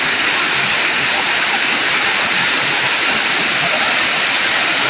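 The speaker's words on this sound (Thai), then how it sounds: "ข้างล่างจะเป็นน้ำตกถ้ำบอนค่ะ" Tham Bon waterfall in Ubon Ratchathani, Thailand, a loud, continuous broadband roar of falling water, steady and close throughout.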